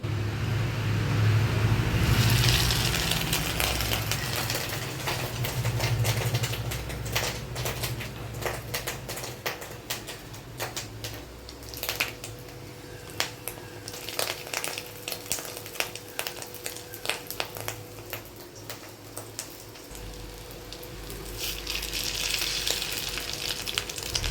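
Spoonfuls of fish roe batter sizzle in hot oil in a kadai, with a steady close frying hiss and dense crackling pops throughout, over a faint low rumble.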